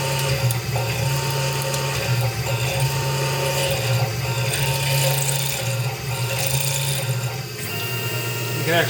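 A steady whining drill bit grinds through aluminum at close range while machining a fixture, droning continuously with slight shifts in pitch.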